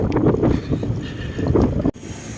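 Headwind roars across the microphone of a cyclist on a long ride from Pagudpud toward Cainta, loud buffeting gusts that drop away suddenly near the end.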